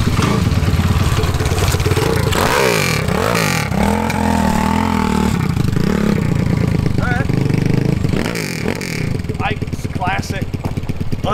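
A Honda ST90 motorcycle with a big bore swap is push started, its engine catching and revving up and down loudly with clattery mechanical noise, while voices talk over it.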